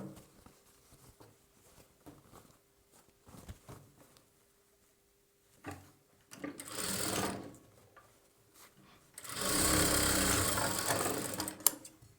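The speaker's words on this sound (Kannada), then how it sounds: "ಮಾರ್ಕಿಂಗ್ ಪ್ರಕಾರವಾಗಿ ಸ್ಲೋಪಾಗಿ ಡಾಟ್ಸ್ನ ಸ್ಟಿಚ್ ಮಾಡ್ಕೊಳ್ಬೇಕು." A sewing machine stitches the darts of a boat-neck blouse along marked lines, running in two sustained loud bursts separated by quieter handling sounds and pauses.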